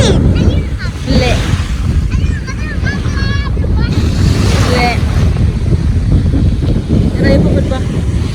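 Sea waves wash in at Alamein beach with steady wind buffeting the microphone, as someone talks close by over the broad surf noise.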